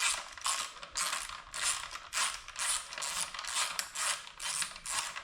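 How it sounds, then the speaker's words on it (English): A T30 Torx bolt being backed out of the headlight assembly on a 2025-26 KTM 390 Adventure R motorcycle, giving close, repeated ratchet clicks in steady bursts about twice a second. "Now I'm taking off these two Torx bolts. They're T30s that hold on the headlight assembly."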